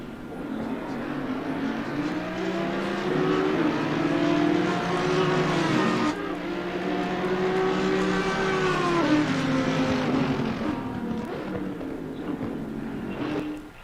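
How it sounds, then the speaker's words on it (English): GT3 race cars in the PS4 sim racing game Assetto Corsa Competizione, with an Audi's engine screaming among them; sustained loud, high revving engine tones rise and fall steadily throughout, with a shift in pitch midway and no talk. "you can just hear the cars behind you, and the way that Audi screams"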